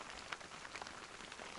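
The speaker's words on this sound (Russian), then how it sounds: "Дожди начались." Autumn rain falls near a forest hut after a hunting trip, a faint, steady patter with a few soft drops standing out and no voices.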